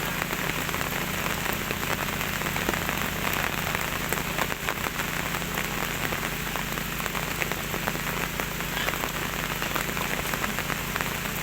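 Heavy rain pours at a muddy backhoe dig site, a dense, constant hiss of drops hammering the ground with scattered sharper patters throughout.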